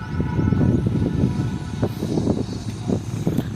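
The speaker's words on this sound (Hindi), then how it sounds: "तो ये आ रही है बिल्कुल मेरे सामने से कराची लाहौर के दरमियान चलने वाली 37 अब बाबा फरीद एक्सप्रेस HM20 के साथ।" The Baba Farid Express, a Karachi–Lahore passenger train hauled by an HM20 locomotive, rumbles past close by at a Pakistani station: a loud, continuous low roar with rhythmic clattering pulses from the wheels.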